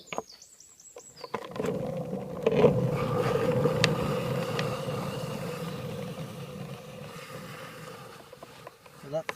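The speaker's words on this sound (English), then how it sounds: "So that's the braking action." A longboard rolling with a Board Brake pressed down, a continuous gritty rumbling drone that swells and slowly fades over several seconds, preceded by a brief electronic beep and a few knocks, no talking.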